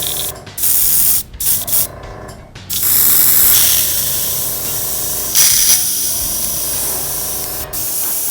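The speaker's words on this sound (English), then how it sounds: "let's make sure it'll spray" An airbrush, an Iwata Neo, sprays isopropyl alcohol in a few short hissing bursts, then in a long continuous hiss, loud and close, with brief pauses between.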